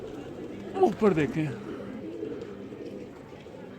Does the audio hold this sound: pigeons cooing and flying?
yes